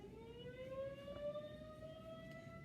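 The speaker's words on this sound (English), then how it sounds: "So the siren, don't worry about that." A monthly civil defense siren wails outside a school, sounding from a distance as a faint, steady tone that slowly rises in pitch.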